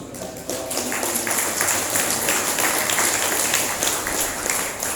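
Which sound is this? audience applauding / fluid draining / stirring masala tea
audience applauding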